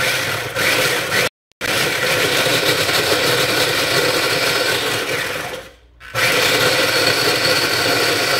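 A kitchen blender runs loud and steady while pumpkin lasagna filling is made, with a brief cutoff early on and another dip in the whirring motor before it resumes at full power.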